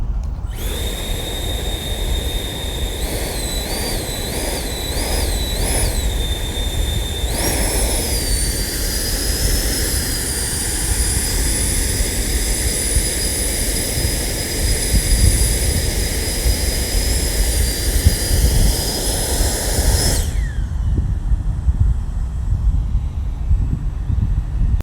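A Sprite hop vehicle's jet engine spools up with a rising whine and whistling tones, then roars steadily through launch and a sustained hover. The loud, continuous rush drops off sharply near the end as the engine cuts.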